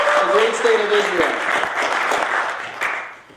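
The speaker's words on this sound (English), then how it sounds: "let's give a round of applause and thank him for his service to our country" An audience claps in a sustained round of applause for a former IDF veteran, steady and fairly loud, while a voice speaks over the opening second before fading out.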